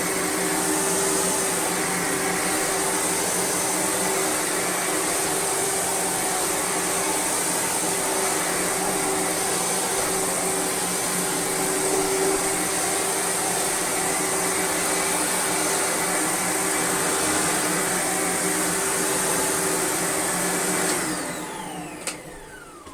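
A Beko vacuum cleaner runs loud and steady while cleaning church carpet, a continuous whine with a constant tone, then winds down near the end.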